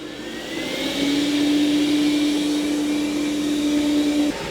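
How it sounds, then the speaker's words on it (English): A Dreame L10s Ultra robot vacuum ramps up its suction on carpet, a steady whooshing motor roar that rises into a louder, higher whine with a sustained tonal hum before dropping back. "when it comes across carpet, it will sense carpet and raise those pads. And it ramps up the suction."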